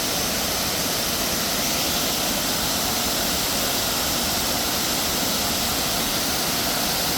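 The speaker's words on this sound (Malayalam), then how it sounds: "ഇതാണ് വെള്ളച്ചാട്ടം" Small artificial waterfall at the Riverwalk in downtown Lynchburg, a steady, dense rush of falling water heard close and loud, continuous with no pauses.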